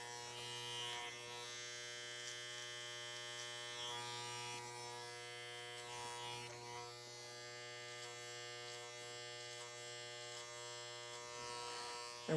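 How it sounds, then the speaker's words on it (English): An electric hair clipper buzzes steadily and close up while cutting curly hair into a fade, a constant hum with small fluctuations as it moves through the hair. "I'm going to close the clipper down all the way and do it again and not go as"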